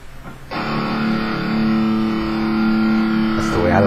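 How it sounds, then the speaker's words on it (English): A chord is struck with drop D tuning on the low three strings of an electric guitar through a distortion effect, ringing out as one thick, buzzing sustained crunch that swells slightly and hangs on for several seconds. "Let's add a little bit of distortion."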